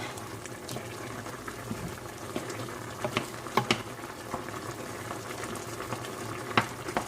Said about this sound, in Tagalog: So we're just gonna let this one simmer for another 5 more minutes before we add our liver.